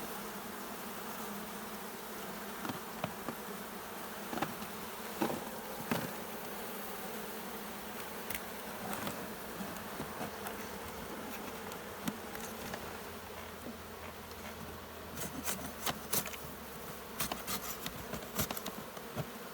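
Dense swarm of honey bees buzzing steadily throughout while a hive is split, with frames of brood and a large mass of bees being moved, close and continuous with occasional clicks and handling knocks.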